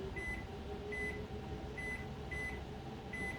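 Repeated short electronic beeps from a microwave oven's timer keypad, about five evenly spaced tones over a steady low hum, with no talking.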